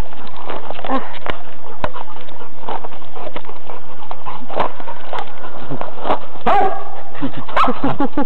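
Several dogs barking and whimpering while playing outdoors, loud repeated barks in irregular bursts close to the microphone.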